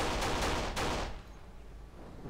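Unsilenced pistol fire in the video game Kane and Lynch 2, a quick run of loud, closely spaced shots at first that cut off and leave a quieter noisy tail.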